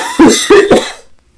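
Three loud, close coughs in quick succession from one person, the last trailing off into silence.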